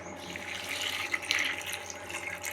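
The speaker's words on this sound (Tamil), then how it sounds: "தேவையான அளவு தண்ணி ஊற்றி" Water is poured over soaked lentils and finely chopped bottle gourd in a cooking pot. It makes a short, even, moderately quiet stream of pouring that lasts about two and a half seconds.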